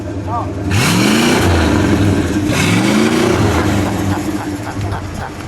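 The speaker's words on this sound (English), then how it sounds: "That was a good rev." A 1962 Chrysler Newport convertible's 361 V8 revs twice in loud, close sweeps that rise and fall, then settles into a rumbling idle, with people talking over it.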